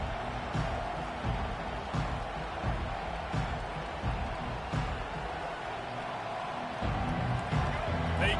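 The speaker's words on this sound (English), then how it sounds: "They challenge this crowd to bring the energy, and I'd say they're doing that." A packed football stadium crowd roars steadily through the opening drive of a game, a dense far-off wash of cheering and noise that never lets up, with a commentator talking over it.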